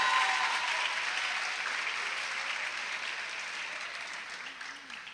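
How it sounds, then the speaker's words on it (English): A crowd at an 8th grade graduation ceremony applauds steadily, a dense sustained clapping that fills the room and slowly fades over several seconds, with no talking over it. "Give Ms. Podmore a big round of applause."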